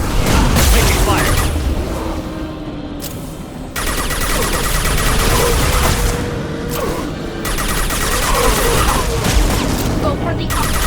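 Rapid gunfire and booming shots in Mass Effect Legendary Edition combat, loud and sustained in bursts across the whole stretch, layered with game effects and voices.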